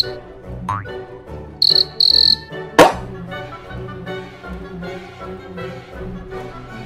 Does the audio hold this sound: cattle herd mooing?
no